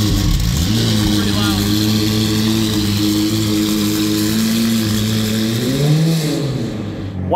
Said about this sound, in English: While the McLaren warms up